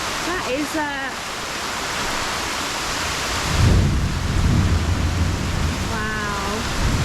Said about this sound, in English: I think the thunder's overhead now.